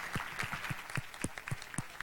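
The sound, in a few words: applause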